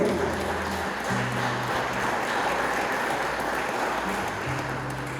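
A church congregation applauds loudly in a steady, dense wash of clapping that holds throughout, with sustained instrumental tones playing underneath.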